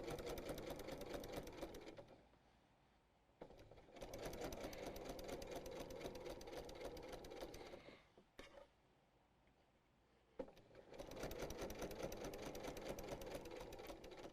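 A sewing machine stitches through the layers of a quilt-as-you-go tote bag, running in steady close bursts separated by short pauses and a brief stop-start, with no talk.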